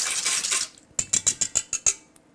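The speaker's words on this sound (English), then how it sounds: "Next, we're gonna add 1½ cups of organic white sugar. Give that a whisk." A whisk clinks against a metal bowl while sugar is stirred into vegan, gluten-free dark chocolate cupcake batter: a scraping swirl first, then about six sharp, evenly spaced metallic taps, close and clear with no talking.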